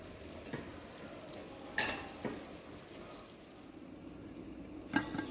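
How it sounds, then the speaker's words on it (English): Peppered steak simmers and sizzles in a pan with added water, a quiet steady frying hiss broken by a few sharp clinks of a utensil against the pan. "allow this to simmer for a little."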